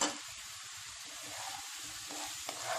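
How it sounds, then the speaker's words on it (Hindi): Chopped carrots and capsicum sautéing on a high flame, with a steady close sizzle and hiss throughout and no talking. "देखिए हाई फ्लेम पे इन्हें भी सॉटे कर लें।"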